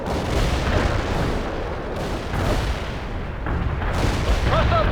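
Heavy artillery fire and explosions from the World in Conflict battle game, rolling booms and gunfire in a dense, loud continuous barrage throughout.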